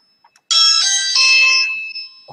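A phone notification chime that resembles a doorbell rings out loud and clear, a bright two-part tone lasting about a second and a half before fading, with no talking over it.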